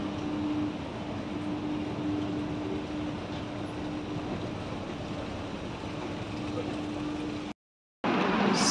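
A Renfe train at a station platform in Bilbao, heard as a steady broad rumble with a sustained low hum running throughout, fairly loud and continuous, cutting out briefly near the end before resuming.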